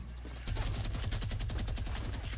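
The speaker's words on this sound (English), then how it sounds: "What's wrong with you with that mini gun?" Rapid, continuous minigun fire in a video game, a steady loud burst that kicks in sharply about half a second in and keeps rattling without pause to the end.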